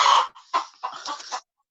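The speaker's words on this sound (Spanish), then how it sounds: "ese gallo, agárrenlo." A rooster clucks close by in a short series of sharp, loud calls, one strong call followed by three quicker ones, with no speech.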